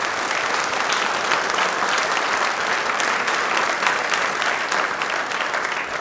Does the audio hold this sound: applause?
yes